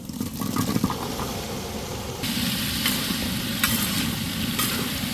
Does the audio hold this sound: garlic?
yes